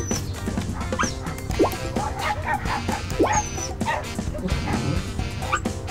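A beagle in the video game Petz Sports 2008 yips, barks and whimpers in quick repeated bursts, close and fairly loud over steady background game music, with a voice talking at times.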